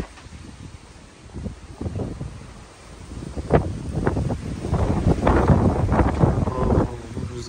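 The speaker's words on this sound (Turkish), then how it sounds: "Bu rüzgara bak." Strong storm wind gusts outdoors at night, buffeting the microphone in uneven surges that build from quieter rushes into louder, rough blasts toward the end.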